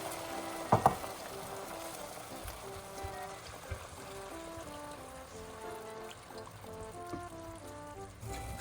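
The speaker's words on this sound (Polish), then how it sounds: "To wszystko tak muszę teraz dusić do miękkości grzybów." Mushroom filling simmers in a pan with added mushroom water and freshly ground pepper, giving a steady soft sizzle and bubbling at a low, even level, without talk.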